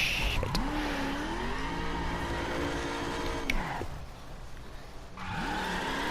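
A Dirt Spec Ford Mustang GT in the racing game The Crew revs up and holds a loud, steady engine drone, drops off briefly, then climbs again, close and alone with no voices.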